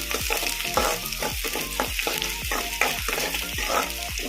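Green chillies sizzling and frying with softened onions in a pan for masala Maggi, a close, steady crackle with rhythmic stirring scrapes throughout.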